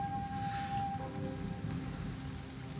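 Tropical rain in the jungle battlefield of the strategy game Total War: Three Kingdoms, a steady close hiss of rainfall that runs without a break under a faint tonal game hum.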